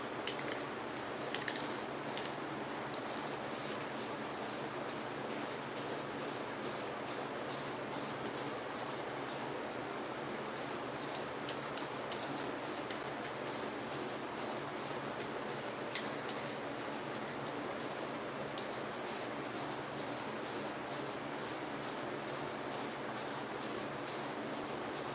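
A spray gun lays down a primer coat in a paint shop, giving a steady, loud hiss that runs nearly unbroken, with rhythmic pulses as the gun trigger cycles and no talking.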